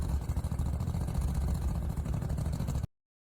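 Koenigsegg's miniature 3-cylinder Freevalve engine running at a steady, throbbing idle, close and continuous, then cutting off abruptly.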